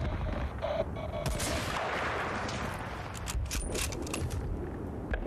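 Incoming artillery shells and gunfire in a harbor-map shooter video game: scattered sharp cracks and muffled blasts pop over a steady rumbling battle background, fairly faint and distant-sounding, with no talking.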